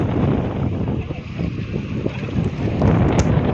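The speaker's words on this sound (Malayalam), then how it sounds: "ആ പൊങ്കാലപ്പാറയിൽ നല്ല കാറ്റ് വീശുന്നുണ്ട്" Strong wind gusting across Pongalappara rock on the Agasthyarkoodam trek, a steady loud roar buffeting the microphone throughout with a brief surge near the end.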